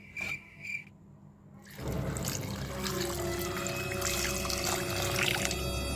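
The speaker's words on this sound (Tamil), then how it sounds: "தண்ணி ஊற்றிடுவோம் நம்ம." Salted water pours steadily over tapioca in a pot for boiling, a continuous rushing, splashing stream that begins after a couple of seconds of quieter kitchen sounds and continues to the end.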